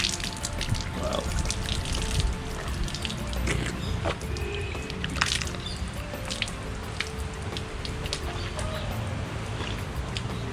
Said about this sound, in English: let me fetch the water out for you to see